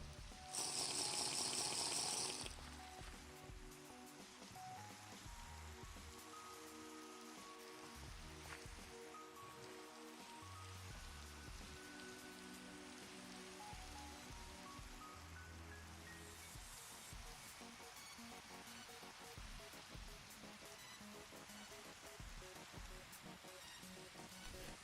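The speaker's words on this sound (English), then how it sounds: "Oh, we got a rainstorm." A rainstorm in the video game Minecraft, played with the FTB Skies modpack, gives a soft, steady patter of rain under tonal game music and a short louder burst at the start.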